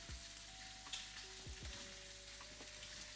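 Chicken piccata sizzling in a pan, a quiet steady frying hiss with a few soft clinks and scrapes, no talking.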